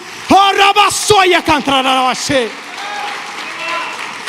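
A church congregation claps during a service. Steady applause runs beneath a preacher's loud, amplified speech, then continues more softly on its own.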